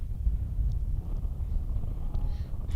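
Steady heavy wind buffets the microphone at a cricket ground during a match, a constant low rumble, loud and unbroken throughout.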